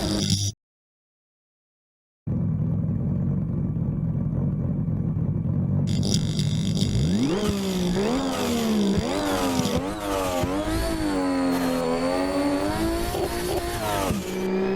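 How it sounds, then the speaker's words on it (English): A Nissan S14 with an angle kit drifts downhill at Usui, its engine revving hard in repeated rising and falling sweeps as the driver works the throttle through bends, loud and close. A short silent gap comes near the start, and nobody speaks. "This is the S14 at Usui, downhill first"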